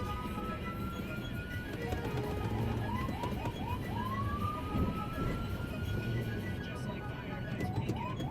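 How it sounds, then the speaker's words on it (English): A fire truck siren sweeps up and down in a series of wailing rises, heard somewhat distant amid busy traffic noise, while a voice talks over it. "The lights were on with the sirens on loud"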